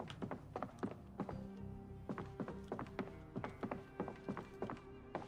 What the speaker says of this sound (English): I was definitely hearing something banging on a wall.